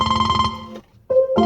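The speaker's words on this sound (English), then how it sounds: "sorry, my phone was ringing" A phone ringtone plays a bright, pulsing electronic tone, cuts off briefly, then starts a new ring near the end, close and clear with no talking.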